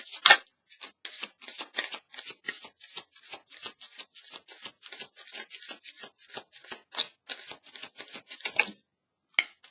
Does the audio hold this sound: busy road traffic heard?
no